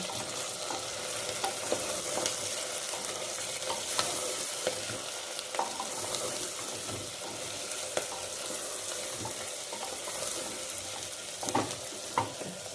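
Kashmiri chili powder frying with mutton in a pan for a Bihari-style Champaran mutton, giving a continuous close sizzle broken by regular scraping and clicking stirs, with no one speaking.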